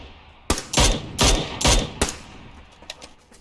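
Loud, close bursts of PUBG gunfire in a three-man squad match: several heavy, rapid shots in quick clusters during the first two seconds, then fainter, scattered pops trailing off.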